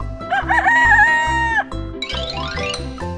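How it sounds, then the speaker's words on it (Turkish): A rooster crows loudly in one long cock-a-doodle-doo, then gives a few clucks over cheerful background music. "horoz"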